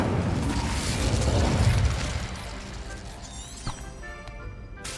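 An Incendio fire spell cast in the video game Hogwarts Legacy bursts out with a loud, roaring whoosh of flame. It fades over a few seconds into crackling and a scatter of small magical chimes and pings.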